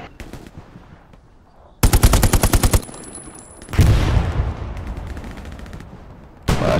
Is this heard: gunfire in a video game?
yes